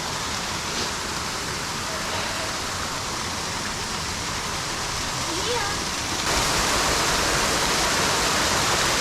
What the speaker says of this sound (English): Looks like we are at the top of the waterfall.